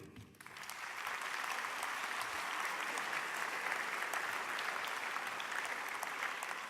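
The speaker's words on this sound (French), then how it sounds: "On peut tous les applaudir." An audience at a general assembly in Nantes breaks into applause, a dense, sustained clapping that swells in within the first second and carries on evenly, moderately loud and close.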